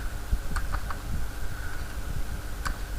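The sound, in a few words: typing on a computer keyboard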